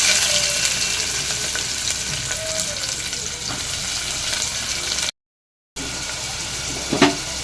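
Onions frying in oil with green chilli and curry leaves for kadalai kuzhambu, a loud, continuous close-up sizzle with light stirring, a brief dropout near the end, then a spatula knock.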